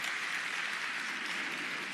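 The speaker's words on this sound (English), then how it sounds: "Give him and all veterans a round of applause." A crowd applauds veterans at a county government address, a soft, even wash of clapping that holds steady for two seconds without voices, sounding somewhat distant.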